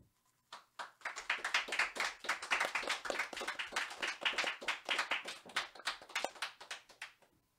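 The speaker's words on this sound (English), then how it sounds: "You know what that applause means." A small studio audience claps at the close of a live radio variety show, sparse individual claps at first swelling into steady, fairly close applause that thins out at the end.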